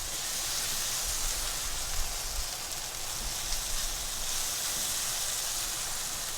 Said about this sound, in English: Frying this rice until it's dry and loose.